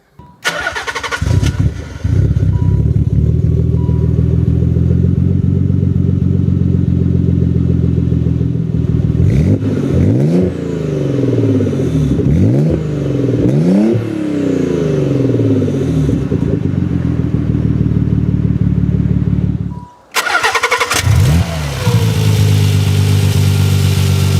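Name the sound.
Nissan 300ZX twin-turbo 3.0 engine roaring and revving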